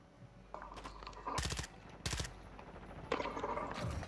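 Shotgun blasts in a PlayStation shooter game, a few loud booming shots spaced a second or so apart over a low game-ambience bed, with faint talk.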